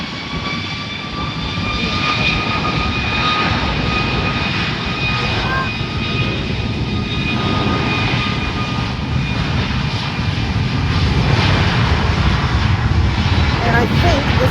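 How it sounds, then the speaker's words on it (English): A United Airlines jet on flight 668 to Houston, heard at San Juan airport, gives a loud, steady engine roar with high whining tones that holds for the whole stretch without letup. "this is United Airlines, flight number 668, heading to Houston Bush Intercontinental"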